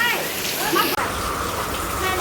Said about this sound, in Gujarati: એક ધોરો વરસાદ ક્યારનો આવે છે